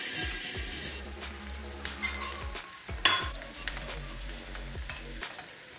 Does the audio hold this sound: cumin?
yes